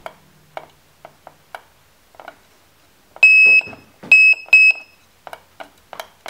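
Short electronic beeps from a Raspberry Pi buzzer module sound in a quick burst of several tones, mixed with soft clicks and taps of push buttons being pressed.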